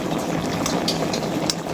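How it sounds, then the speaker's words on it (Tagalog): Paksiw na bisugo, a vinegar fish stew with eggplant and okra, boils steadily in a pot, with a continuous bubbling and simmering texture heard up close and without talk. "Yun mga idol, kumukulo na mga idol."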